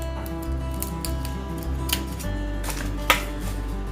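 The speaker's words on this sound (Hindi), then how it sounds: "इसको ऐसे मैं कैंची से ऐसे बीच से काटना है इसको" Scissors snipping through red chillies, splitting them down the middle, with a few crisp cuts spaced apart and one sharp clip standing out near the end, close and quiet against a low steady hum.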